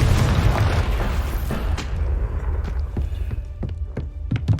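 A Confringo fire spell blast in the video game Hogwarts Legacy, a loud booming roar that fades into crackling, rumbling debris and scattered sharp pops.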